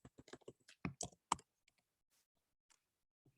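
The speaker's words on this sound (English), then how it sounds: "Type the instructions." Typing on a computer keyboard, a quick run of close, crisp key clicks followed by a few scattered taps in otherwise quiet surroundings.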